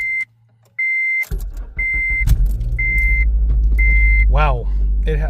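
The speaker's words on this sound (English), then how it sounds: "Wow, my car hasn't started that smoothly in a very long time." A 2006–2011 Honda Civic Si with a K20Z3 engine starts up right after a starter replacement: chime beeps repeat, then a quick crank catches into a steady close idle, with a voice briefly over it.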